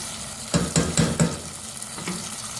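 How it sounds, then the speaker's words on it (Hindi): Soaked mash dal goes into a frying masala of softened tomatoes, giving a sizzle with four quick rhythmic stirring scrapes, then one more softer stir, close and without talk. "अब इसमें दाल शामिल करेंगे।"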